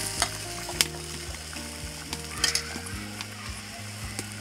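Pumpkin and vegetable stalks frying in a pan, a continuous close sizzle with intermittent clinks and scrapes of stirring, alongside a low steady hum.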